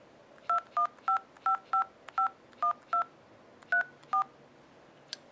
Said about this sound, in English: If you want to access the dial pad, you hit that soft key there on the home screen.